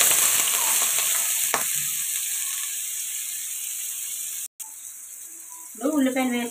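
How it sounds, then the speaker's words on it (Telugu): Sliced onions and green chillies dropped into hot oil for a chicken curry, giving a steady close sizzle that fades slightly, broken by one brief dropout and a short stir, with a voice speaking faintly near the end. "ఇప్పుడు ఉల్లిపాయలు వేసుకున్నాం కదండి, ఇవి బాగా ఫ్రై అవ్వాలి."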